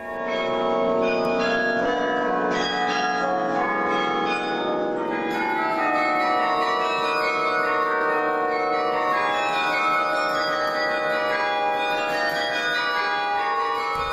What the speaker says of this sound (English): a carillon is basically a set of large bells that range from really huge to really, really huge